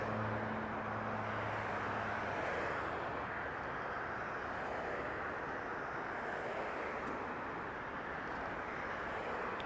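A Southwest Boeing 737 airliner departing Las Vegas Harry Reid International Airport gives a steady, loud broadband jet roar throughout, with a faint tonal hum fading early on.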